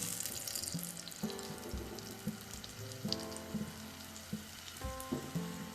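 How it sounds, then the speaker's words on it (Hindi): An egg frying in oil over a low-medium flame gives a soft, steady sizzle with faint crackles, fairly quiet and with no talking over it. "यहाँ देखिए आप, एग जो है वो फ्राई हो रहा है।"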